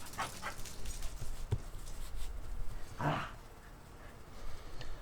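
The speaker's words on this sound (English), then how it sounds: "Doggies." A dog gives a short bark or yelp at moderate distance, heard once over quiet outdoor ambience while a pizza is being prepared for a portable pizza oven.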